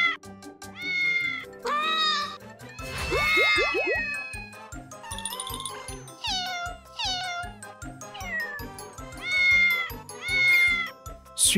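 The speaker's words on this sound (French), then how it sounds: "Oh, les chats errants." Cartoon stray cats in an animated children's show meow repeatedly, loud and close, with several overlapping high rising cries, a springy boing and light jingles in between.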